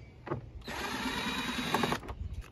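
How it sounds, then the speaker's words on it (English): A Harbor Freight quarter-inch cordless impact driver runs in one sustained burst of about a second and a half, whirring and rattling as it backs out an air box lid screw on a Trailblazer/Envoy, with brief clicks before and after. "So I got this impact driver from Harbor Freight. It's the quarter inch impact driver."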